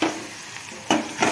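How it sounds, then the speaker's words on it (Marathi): Gram flour stirred in a hot pan with onion for an eggplant curry, giving soft sizzling and a few scraping stirs, close and quiet. "चांगलं हलवून घ्यायचं."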